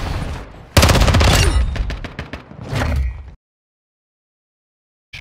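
Video game gunfire in Call of Duty Modern Warfare 2 cracks out in a loud, rapid burst of shots followed by a shorter second volley, then falls silent.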